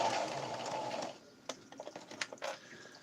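A sewing machine stitches quilt sections together with a short, fairly quiet whirring run, followed by a series of light clicks and taps of fabric handling.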